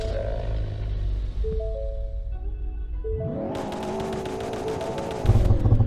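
A 2.3-liter turbo four-cylinder Peugeot engine in the Roblox game Greenville idles, then revs sharply and climbs through the gears with a buzzy, steady rising drone, loud and close.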